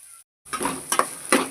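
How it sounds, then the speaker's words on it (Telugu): Food frying in a pan for a healthy home recipe, a soft steady sizzle broken by brief stirring scrapes and utensil clinks, close and moderately quiet after a short silent gap. "బాగా ఫ్రై అయిపోయింది"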